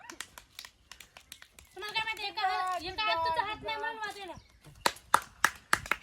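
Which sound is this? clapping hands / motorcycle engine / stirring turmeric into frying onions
clapping hands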